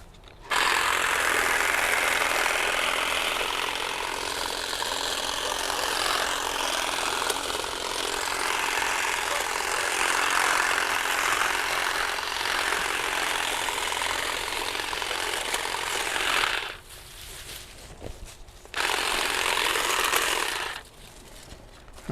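A cordless hedge trimmer cuts through a 3/16-inch branch with a loud, steady buzzing chatter that runs for about sixteen seconds, stops briefly, then starts again for a few seconds. It sounds close, and no one speaks.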